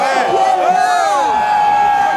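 A rally crowd of supporters of President Laurent Gbagbo, gathered at The Hague from Switzerland and across Europe, cheers and applauds in a steady, dense roar. A voice carries loudly over the noise throughout.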